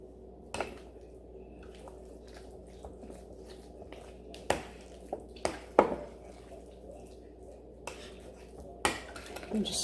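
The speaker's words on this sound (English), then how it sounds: "we just kind of fold it around in the bowl" A sweet relish mixture gets folded in a bowl in a home kitchen: quiet, sparse clinks of a utensil against the bowl, with soft wet squelches between them.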